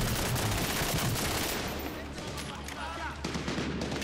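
Medal of Honor Warfighter gunfire: sustained machine-gun bursts and overlapping shots rattle loudly, then thin out into scattered reports.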